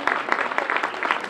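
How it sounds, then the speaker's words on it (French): Audience applause at a French song contest for teenagers, a short burst of crowd clapping over the whole moment, fairly close and even. "On peut l'applaudir"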